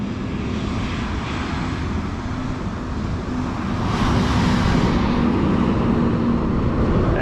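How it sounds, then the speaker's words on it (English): Loud, continuous roadway rumble of heavy trucks passing nearby on Route 66, swelling midway as a vehicle roars by, with no talking. "it's really loud with these trucks"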